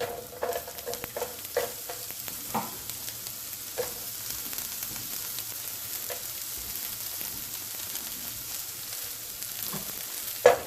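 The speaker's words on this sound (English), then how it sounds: "So in go the onions." Onions sizzle and fry over high heat in a hot pan with spices, a steady crackling hiss broken by louder pops and spatters, close up with no voices.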